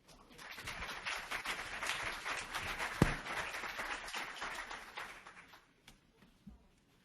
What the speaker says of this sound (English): we're going to give Drew a big hand of applause